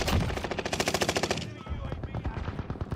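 Automatic weapon fire in the shooter Warzone, a fast rhythmic burst of about a dozen sharp shots that stops abruptly, followed by quieter clatter and a voice speaking over it.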